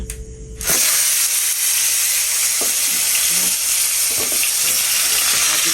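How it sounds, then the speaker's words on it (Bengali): Salted, cut pointed gourd hits hot oil with a sudden loud burst of sizzling that holds as a dense, close, continuous hiss, broken by small crackles and pops. "তেলটা গরম হয়ে গেছে এবার আমি পটলগুলো এখানে কেটে রেখেছি লবণ দিয়ে রাখছি এগুলো আস্তে করে দিয়ে দেবো"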